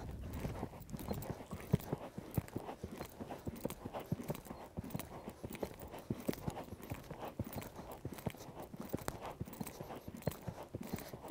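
A horse ridden in dressage schooling toward Grand Prix level, hooves clip-clopping in a steady, even rhythm throughout, moderately close and fairly soft, with no speech over it.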